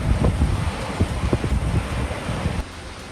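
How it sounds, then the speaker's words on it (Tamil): Gale-force wind in a heavy rainstorm buffets the microphone with loud, gusty low rumbling and rushing noise that eases slightly toward the end. "சூறை காற்றுடன் பெய்த கனமழை"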